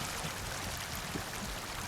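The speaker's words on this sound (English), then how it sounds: "All these nice little brooks, right?" A babbling brook flows steadily in the video game Atomfall, a constant close wash of running water with no pauses and no voices.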